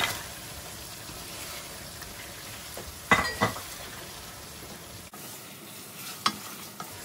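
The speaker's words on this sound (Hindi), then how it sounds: "इसको हम थोड़ा सा मसाले के साथ फ्राई करते हैं।" Mutton pieces frying in masala in a pan for shaljum gosht, a soft steady sizzle with a few sharper clatters of the spoon stirring around three seconds in and again near six, moderately close with no talking.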